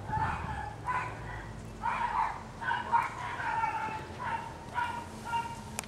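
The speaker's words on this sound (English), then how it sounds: "Sounds like we have a dog altercation." Several dogs bark, yip and whine in overlapping bursts, sounding somewhat distant and agitated, like a scuffle between them.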